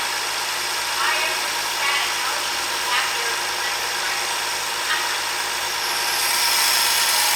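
A Ford 300 six-cylinder engine, freshly installed in a 1954 International R100 truck, idles steadily and evenly at close range, a continuous mechanical hum with faint ticking, while people talk over it.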